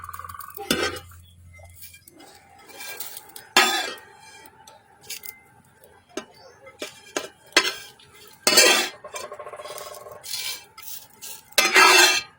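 A spatula stirs and scrapes rice cakes around a very hot wok, with sharp metallic clanks and scrapes in irregular bursts between quieter stretches of faint frying.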